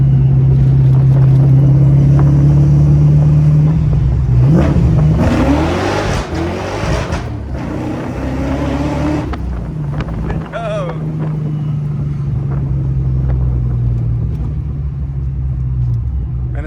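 A supercharged 1993 Fox body Mustang 5.0 roars and pulls hard from inside the car, its engine note climbing over a steady drone and wind noise before easing back to a cruising hum, with occasional voices.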